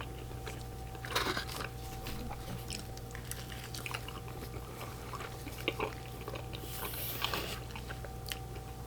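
Crunchy bites and chewing on a crispy, well-done Papa Johns pizza with extra cheese and meatballs, a few sharp crunches near the start and middle over steady close mastication against a low constant background hum.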